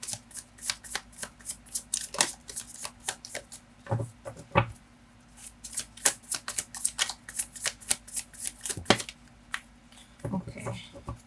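Tarot cards are shuffled and drawn close up: rapid, crisp riffles and slaps in uneven bursts, with a brief pause midway and quiet handling sounds between.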